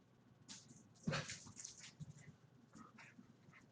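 A dog indoors giving a few soft, faint barks and whimpering yips, scattered and irregular against a quiet room.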